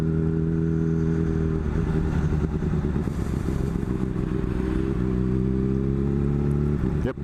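Motorcycle ridden through town traffic with a steady, loud engine drone and a rattling, clattering texture, close to the listener throughout and continuous to the end.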